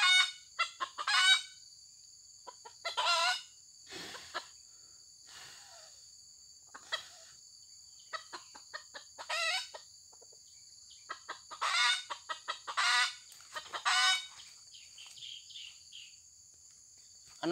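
Chickens cluck and squawk in scattered bursts, some loud and near, over a steady high insect drone; no clear crow stands out.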